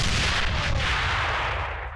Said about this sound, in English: It's an enemy grenade!